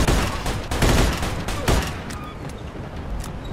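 Automatic Thompson submachine gun fire in Mafia II, loud rapid bursts cracking close by, strongest in the first two seconds and then tapering into scattered shots and echoes.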